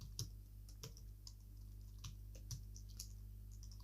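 Scattered keystrokes tap on a computer keyboard, close and quiet, in short irregular bursts over a steady low hum, with no talking.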